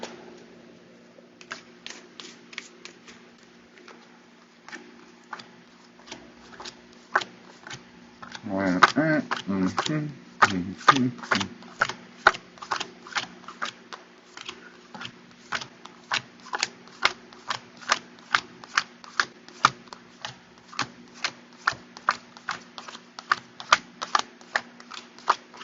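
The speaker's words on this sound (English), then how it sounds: "Let me get these cards counted and shuffled for you all." A tarot deck is counted and shuffled by hand, a steady run of quick, crisp card flicks and riffles, close and fairly quiet, with a busier burst partway through.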